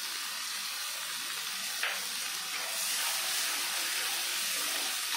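Steady sizzling of chili, ginger and cumin paste frying with chopped tomato and onion in a pan, a continuous bright hiss with a brief stirring scrape, close and alone.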